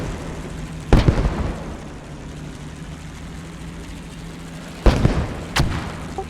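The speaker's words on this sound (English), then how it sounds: "Cagny gets killed though by artillery." Artillery shells exploding during a World War II battle around Caen in the game Post Scriptum: three heavy booms, the first alone and the last two close together, over a steady low engine-like drone.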